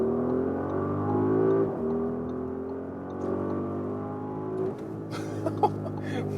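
Audi RSQ8 performance SUV with 600 horsepower in RS mode, accelerating on the German Autobahn: a steady engine drone with rising harmonics fills the cabin, with no talk over it.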